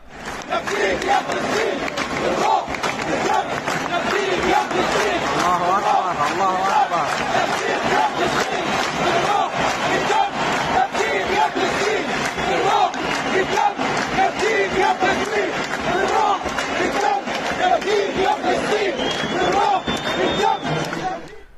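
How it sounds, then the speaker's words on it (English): A large football crowd at the Qatar World Cup chants in unison for Palestine, a dense, loud, continuous roar of massed voices with rhythmic shouting sustained throughout. "crowds sang the words, "With spirit and blood, we will redeem you, O Palestine.""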